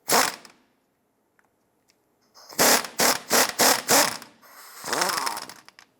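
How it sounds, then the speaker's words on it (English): A socket wrench ratchets in quick clicking bursts while an 18mm nut on a sway bar link is loosened on a 1997-2006 Jeep Wrangler, with several close, crisp runs separated by short pauses. "Use an 18mm socket to loosen the nut here"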